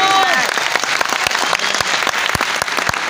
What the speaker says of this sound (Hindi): मैं चाहता हूं एक बार जोरदार ताली ऐसे बच्चों के लिए बना।